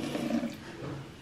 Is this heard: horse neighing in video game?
no